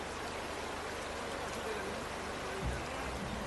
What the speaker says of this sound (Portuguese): Muita chuva, muita chuva.